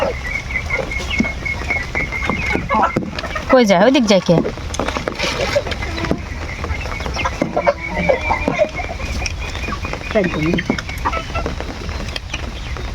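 Chickens cluck intermittently around a yard on a rainy day while people talk nearby; a louder squawk rises in the middle.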